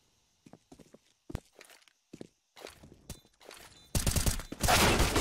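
Video game gunfire during an esports match: a few isolated shots and footsteps at first, then a dense, loud burst of rapid firing toward the end.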